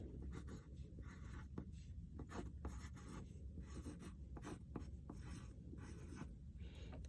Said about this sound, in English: I'm gonna start with my pencil. And I'm gonna put my name at the top.